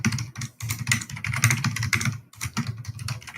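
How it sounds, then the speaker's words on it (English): Rapid, heavy typing on a computer keyboard, dense clattering keystrokes in bursts with brief pauses, close and loud. "Who's hammering on that keyboard?"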